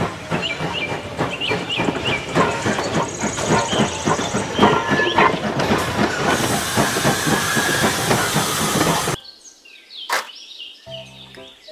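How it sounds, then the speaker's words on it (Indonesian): A Thomas the Tank Engine toy train chugs steadily with rapid rhythmic puffs and hissing steam for about nine seconds, then cuts to quieter clicks and a short electronic tone. "Kereta Thomas."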